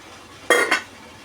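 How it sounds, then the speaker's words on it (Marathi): A spoon scraping and clinking against a pot of rice flour mixture, two quick close metallic strokes in a quiet kitchen. "तर मी ढवळून घेते"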